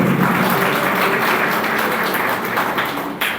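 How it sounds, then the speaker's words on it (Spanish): Congregation at a church service breaks into strong applause, a dense, continuous clapping wash at close range that holds steady for several seconds before cutting off sharply. "Un fuerte aplauso al Señor."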